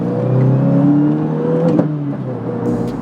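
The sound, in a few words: 2024 Subaru WRX revving and transmission noise with short shifter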